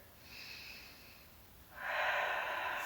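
Two breaths during a Pilates spine corrector exercise: a soft, airy inhale, a brief lull, then a louder, rushing exhale close to the mic, with no talking.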